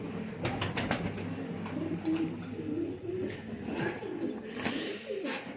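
Low, soft cooing of Khatang and Gulab-head pigeons close by, repeated in gentle rolling phrases with faint background rustling.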